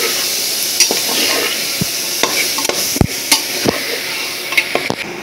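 Potatoes and broad beans fry loudly in a pan, a close constant sizzle punctuated by irregular scrapes and knocks of a spatula against the metal.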